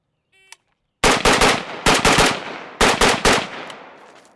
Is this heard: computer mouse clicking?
no